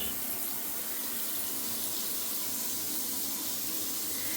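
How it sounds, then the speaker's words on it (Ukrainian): Water from a tap pours steadily into a bathtub with a plug in, a continuous broadband rushing hiss that stays even and unbroken throughout. "Бачите, набирається вода."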